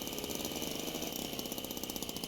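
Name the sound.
old car engine running in the video game Jalopy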